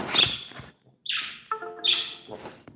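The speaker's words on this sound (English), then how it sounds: "I gotta get the birds food." Pet birds chirp indoors in a few short, bright bursts with brief gaps, close and fairly clear, with no talking over them.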